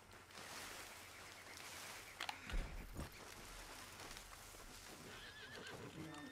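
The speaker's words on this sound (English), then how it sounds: "Wild horses." Wild horses in the video game Red Dead Online let out a clear neigh and whinny amid a soft rain-like ambience, with faint hoof clip-clops, all fairly quiet.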